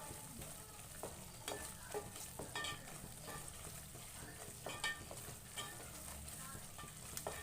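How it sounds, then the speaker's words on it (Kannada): Turmeric powder fries in a pan while mushroom gravy is being made, giving a steady close sizzle with scattered stirring scrapes and clinks throughout, no voices. "ಒಂದು ಅರ್ಧ ಟೀ ಸ್ಪೂನು ಅರ್ಶಿನ ಪುಡಿ ಸೇರ್ಕೊಂಡು ಸ್ವಲ್ಪ ಫ್ರೈ ಮಾಡ್ಕೊಳೋಣ ನೋಡಿ"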